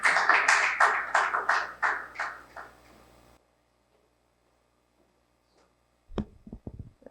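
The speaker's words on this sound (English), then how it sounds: "Please, a round of applause for her." A small audience claps for a speaker at a fireside chat on maternal health equity: about three seconds of loud, rhythmic, evenly spaced claps, then silence, ending with a few faint taps.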